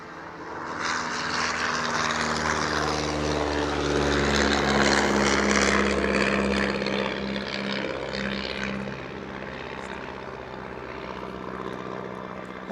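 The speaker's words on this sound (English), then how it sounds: "it's a lovely old biplane just coming in behind there" An old propeller biplane passing overhead outdoors, its engine drone steady and moderately loud, swelling slightly mid-pass and easing as it moves away, with no talk over it.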